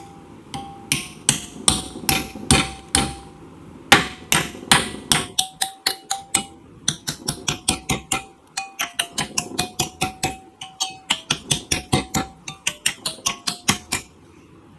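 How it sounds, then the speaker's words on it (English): Hammer blows strike a TIG-welded metal piece clamped in a bench vise, dozens of sharp metallic hits in quick bursts, loud and close, alone without talk. "take it over to the bench vise and hit it back and forth with a hammer and see how strong it is"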